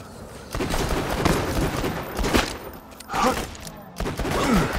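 Pistols fire during a video game standoff duel, with several sharp, loud shots and echoing reports spaced across a few seconds.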